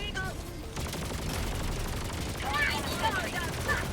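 Heavy machine gun fire in the Helldivers 2 video game rattles in rapid bursts at a fairly low level, mixed with other battle noise and some faint voice-like sounds.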